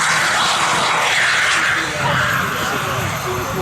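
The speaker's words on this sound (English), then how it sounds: "we've got a Generation 4 twin turbine." Twin-turbine Generation 4 scale model jet taking off at a large model aircraft event, a steady loud turbine roar and hiss held throughout, with a voice talking over it.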